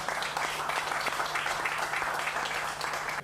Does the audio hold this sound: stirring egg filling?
no